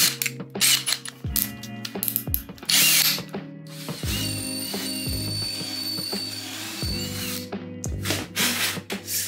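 A drill bores a pocket hole through a 3D-printed jig, giving repeated loud, close bursts of whirring and grinding with brief pauses between them, and no talking.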